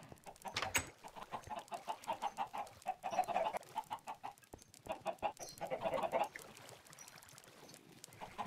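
Chickens in Minecraft clucking in repeated short bursts, several birds at close range with a soft, steady rhythm and no voices over them.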